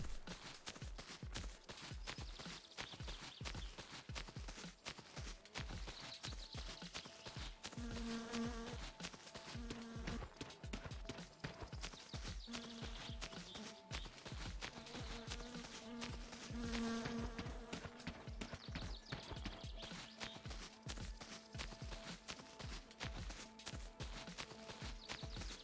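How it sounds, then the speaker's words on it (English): Flies buzz in the game My Summer Car, a dense fluttering drone that lasts throughout, with repeated clopping, step-like taps and faint tonal hums mixed in. "I can hear the flies are buzzing around me"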